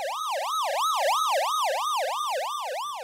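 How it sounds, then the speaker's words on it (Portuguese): A siren from a fast-moving car wails in a steady, repeating up-and-down cycle, loud and alone with no voices, its pitch sweeping rhythmically throughout. "das sirenes que passam por nós de um carro em alta velocidade"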